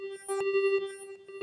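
One FM oscillator from Reason's Algoritm synthesizer playing alone, a bright, buzzy sustained tone with rich harmonics, chopped by a rhythmic gating pulse.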